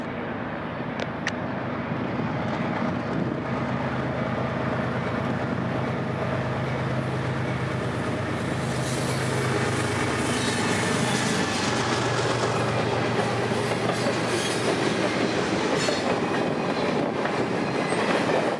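A freight train rolls steadily past nearby, its engine rumbling low beneath continuous rail clatter and wheel noise that fills the whole stretch at an even, loud level.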